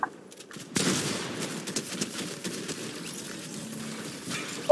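Shotgun fire in a video game, a sudden burst of gunfire that breaks a near-silent start, followed by a scatter of quieter shots and rattling that stays moderate, with a sharp blast at the very end.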